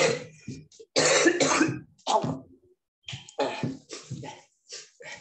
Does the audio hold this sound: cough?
yes